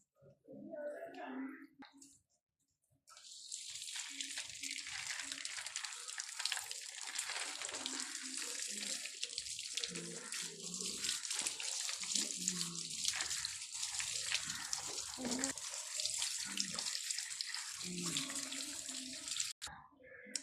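Cherries are washed under a running kitchen tap, with a steady close rush of water lasting most of the time and a short pause near the start. A voice talks over the water at times.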